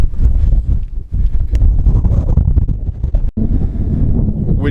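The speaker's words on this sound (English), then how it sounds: "Wind up here, absolutely nuts." Strong, gusty wind roars into the microphone on the exposed summit of Pen y Fan mountain, loud and continuous with brief dips between gusts, with no voices.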